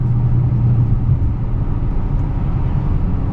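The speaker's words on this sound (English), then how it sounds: "it goes into that 4-cylinder mode with the cylinder deactivation, and the car just sounds weird" A Dodge Challenger R/T engine in four-cylinder deactivation mode gives a steady, low drone with a slightly uneven, rumbling throb, heard close and continuous throughout.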